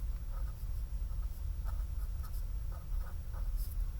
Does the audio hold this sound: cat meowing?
no